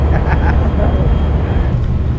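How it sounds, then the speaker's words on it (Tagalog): An airplane passing overhead near a bayside resort in Manila: a loud, broad, steady roar filling the whole clip, with faint voices nearby. "Dami nagdadaan ng eroplano."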